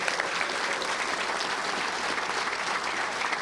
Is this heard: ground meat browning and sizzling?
no